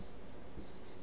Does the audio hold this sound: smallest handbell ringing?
no